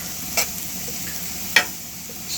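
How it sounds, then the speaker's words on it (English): Zucchini and okra frying in a skillet on an outdoor grill give a steady, close sizzle, broken by two brief sharp clinks or stirs. "Frying in the skillet on the grill."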